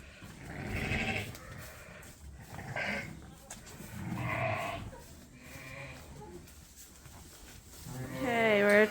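Ewes and a lamb on a sheep farm bleat in several calls spread through the clip, with a clearer, louder bleat near the end, mixed with low barn background noise and a person talking.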